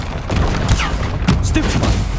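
The Bombarda blasting spell in the PS5 game Hogwarts Legacy goes off as a chaotic burst of loud booms and crackling impacts with whooshing swept tones, dense and close over a busy battle din.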